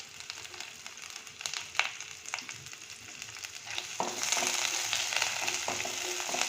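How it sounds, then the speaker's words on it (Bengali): Whole cumin seeds and ghee sizzle and crackle steadily in a hot pan after a little mustard seed tempering, with occasional stirring clinks, growing louder and denser partway through. "সাদা জিরে একটু ফোড়ন দিয়ে দিলাম, আর একটু ঘি দিয়ে দিচ্ছি।"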